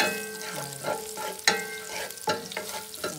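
Garlic frying in a pan for chicken wings with okra, with a steady close sizzle broken by several sharp scraping stirs of a utensil against the pan.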